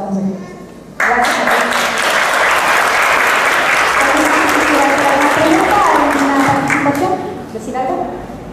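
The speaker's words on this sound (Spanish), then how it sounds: "un fuerte aplauso para todas las mujeres que estamos aquí" A panel audience on women and power, marking 8 March 2017, breaks into loud, dense applause after a brief spoken line. The clapping runs steadily for about six seconds, then tapers off.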